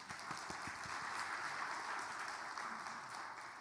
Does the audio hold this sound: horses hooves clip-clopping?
no